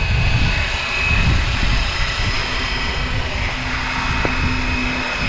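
Flywing BO 105 RC model helicopter in flight outdoors, a steady whirring rotor and motor drone with a sustained high whine, fairly loud and continuous throughout with no talk.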